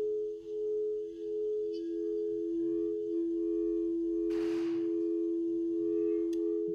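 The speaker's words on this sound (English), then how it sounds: "That is the sound of a sound bath." Sustained, steady resonant tones of a sound bath ring alone at moderate level, with a brief soft shimmering swell midway and a faint chime near the end.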